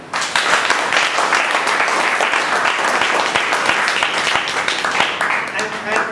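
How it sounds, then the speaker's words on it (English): A hall audience gives a loud, dense round of applause for presenters at a speaking club meeting, sustained and close throughout, with a voice faintly under the clapping. "a huge round of applause for them"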